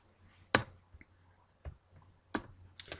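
Scattered computer keyboard key clicks and taps while code is being deleted, a few sharp isolated presses spread irregularly over a quiet background.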